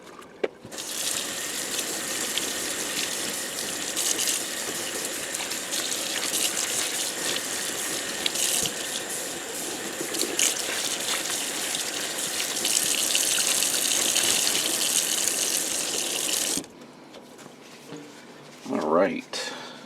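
Water runs steadily onto ice-dyed tie-dye fabric during rinsing, a loud, continuous gushing like a tap into a sink that stops abruptly near the end, leaving a quieter tail with a brief rise.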